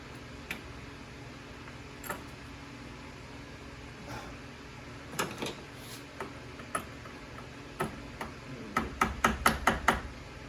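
A go-through socket wrench ratchets a 13mm nut on the battery of a 2016 Suburban, with sparse single clicks that quicken into a close, rapid run of ticks toward the end, quiet and without talk.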